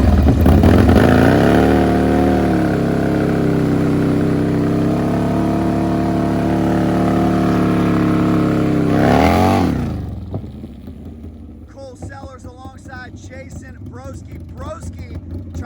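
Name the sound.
Harley-Davidson drag bike engine racing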